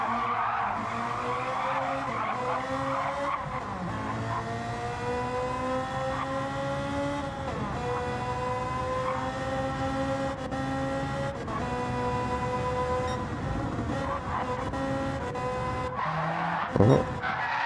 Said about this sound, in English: Okay, burning tires.